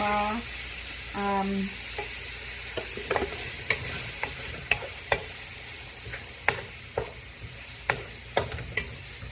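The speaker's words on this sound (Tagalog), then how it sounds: "medyo konting brown para matanggal yung katas ng ating onions at saka ating garlic" Onions and garlic frying for beef curry, a constant sizzle with brief squeaky sounds at the start, then regular clinks and scrapes of a spoon stirring the pan.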